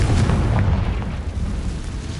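A Confringo fire spell explodes in Hogwarts Legacy, a loud, deep booming blast that fills the whole moment with heavy low rumble and no voices.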